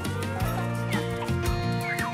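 Chickens clucking in a flock, steady overlapping calls close by with no talk, over a continuous rich tonal background.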